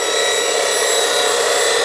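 A lathe tool is sharpened on a 180-grit CBN grinding wheel, a loud, steady, high-pitched grinding whine held without a break, close up.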